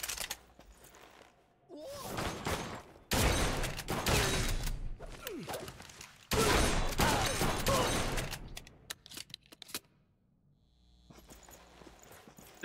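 Shotgun blasts in the video game Blue Estate, heavy broadband bursts in a few loud clusters with a scuffle of footsteps and mechanical clatter between them, then a quieter tail.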